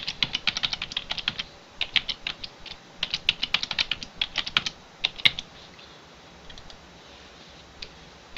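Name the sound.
typing a password on a computer keyboard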